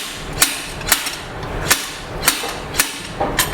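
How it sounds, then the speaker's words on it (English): Slide hammer yanking on a stuck CV axle, six sharp metallic impacts at roughly half-second intervals, close and loud over a low mechanical background. "So the slide hammer is just going to pull it out."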